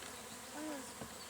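Honey bees from a 3 lb package buzz faintly around a newly installed hive, a low, steady hum with one brief rising drone passing close, and no voices.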